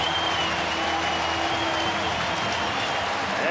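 Large baseball crowd at a Sunday afternoon Pirates at Reds game in Cincinnati, cheering and applauding in a dense, steady roar of clapping and shouts that holds loud for the full stretch.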